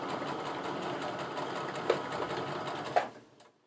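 A sewing machine stitches through quilting fabric in a steady fast whirring run with a couple of small clunks near the end before the motor stops abruptly, heard close up with no talking.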